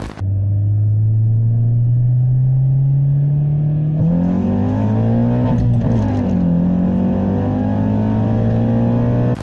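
A Japanese VTEC sports car engine revs loud and close, its droning tone climbing steadily, then sharpening into a harsher, busier howl partway through as the aggressive cam profile engages.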